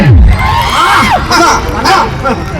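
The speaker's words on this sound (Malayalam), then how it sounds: "നമ്മുടെ മമ്മൂക്കയുടെ ആരാധകർ ഒന്ന് കൈയടിച്ചാൽ നോക്കട്ടെ." A large crowd roars with cheers and shouts, loud and sustained, with excited voices rising over the din.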